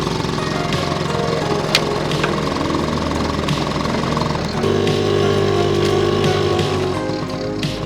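A Honda Super N kei car engine bogs down with a strained, uneven hum, then the revs pick up into a steadier, louder drone about halfway through, with no talk.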